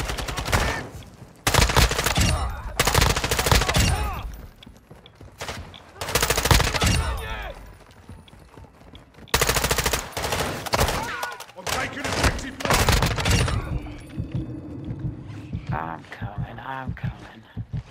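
Bursts of rapid automatic gunfire from the video game Call of Duty DMZ rattle in repeated volleys, loud and close, with players' voices talking over them between bursts.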